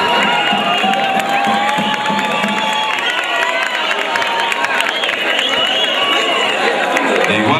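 A crowd at a parish queen pageant and coronation cheers and applauds a candidate, with loud, continuous clapping, shouts and chatter filling the whole stretch.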